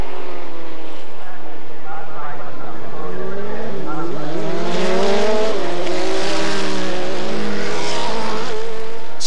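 Race cars, Porsche and Toyota prototypes, scream past at the 1988 Suzuka 1000km, their high engine whine rising and sweeping with Doppler shifts as they close in and pass, loud and continuous.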